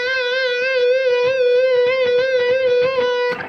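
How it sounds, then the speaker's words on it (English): An electric guitar holds a bent note with a squared-off vibrato, the pitch snapping back and forth in quick, even pulses for over three seconds before a short pick scrape ends it; played alone, loud and close. "A more squared off vibrato might sound like this,"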